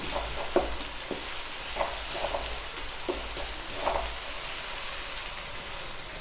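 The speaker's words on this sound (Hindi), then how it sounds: "इसको हमने हल्का सा भूनना है, ज़्यादा नहीं भूनना" Onions fry lightly in a pan for white mutton karahi, giving a steady close sizzle with a few soft clinks and scrapes from stirring. No one speaks.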